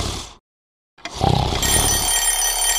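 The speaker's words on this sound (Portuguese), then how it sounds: "um despertador que é um sucesso" An alarm-clock ring sounds loud and close after a short silent gap, a bright continuous electronic or bell-like ringing that rises in intensity and keeps going to the end.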